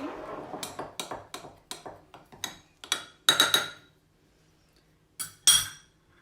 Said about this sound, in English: And mixing together with all this batter.